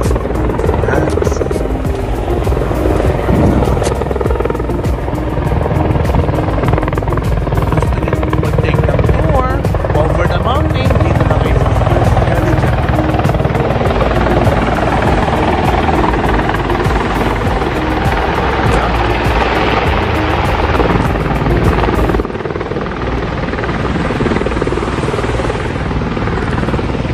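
A helicopter flies near a landing area on the Vancouver waterfront, its steady, loud rotor drone continuous and close, with people talking over it.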